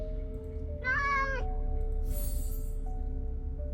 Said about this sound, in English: Are you the kitty that just crossed my path?